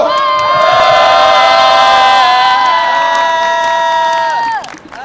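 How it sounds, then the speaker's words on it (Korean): A crowd at a 2013 citizens' rally and march against the National Security Law roars loudly, with high sustained shouts and cheers that hold for several seconds before dropping away sharply at the end. "힘찬 박수로 맞아주십시오"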